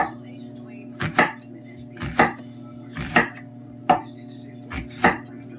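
A knife chops through an onion into rings on a board, six sharp separate cuts about a second apart, close and clear over a low steady background hum.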